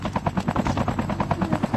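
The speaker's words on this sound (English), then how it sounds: "Helicopter." A helicopter in a battle royale video game beats with a fast, rhythmic rotor chop, loud and close, with no voices over it.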